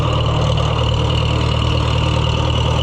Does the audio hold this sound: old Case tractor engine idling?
yes